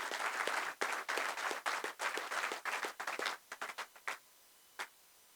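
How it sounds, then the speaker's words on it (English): Applause from a chamber of commerce business event audience, brisk clapping that thins out into scattered individual claps and a final lone clap, fairly quiet and distant. "Can we please give these companies a big round of applause?"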